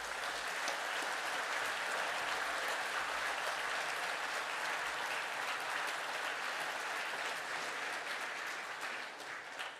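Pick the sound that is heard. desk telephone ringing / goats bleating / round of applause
round of applause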